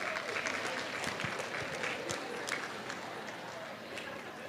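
A room of people at an education conference claps for prize winners, a busy patter of many hands with some crowd murmur mixed in, gradually thinning as it goes on.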